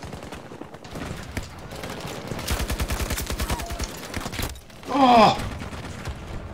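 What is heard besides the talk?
RM68 assault rifle gunfire in Battlefield 2042 video game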